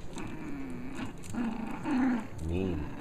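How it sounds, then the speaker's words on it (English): A pug puppy growls in short bursts while tugging on a toy octopus, close and fairly loud, with a person speaking over the play. "Oh, you're such a good tugger."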